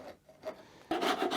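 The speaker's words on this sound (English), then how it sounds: "you can bring a chisel in to clean these edges up" A chisel pared along the edges of a wooden dovetail tail, giving short dry scraping rubs that end in a louder rasping stroke, close and quiet, with no talking.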